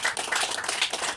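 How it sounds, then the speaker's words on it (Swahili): A crowd at a cup launch event in Mwanza claps, dense overlapping applause that rises in three quick swells, close and fairly loud with no voices. "wananchi walioko hapa wakupigia makofi matatu"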